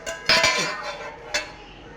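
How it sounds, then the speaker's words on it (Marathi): A metal cooking pot is lifted and set down in a home kitchen: a loud clattering clank, a softer scrape, then a second sharp metallic knock, all close and clear. "आता एक भांडं घ्यायचं"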